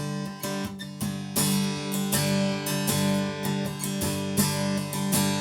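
An acoustic guitar is strummed in a rhythmic pattern of quick down and up strokes, ringing chords played close and clear with no voices.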